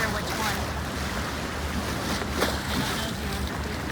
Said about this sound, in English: right on the other side where we're standing is the water, like the ocean